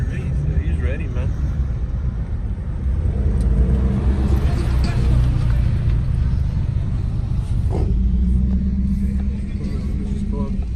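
A BMW M4 with a custom exhaust idles with a steady, deep, loud rumble throughout, close by, as people talk over it.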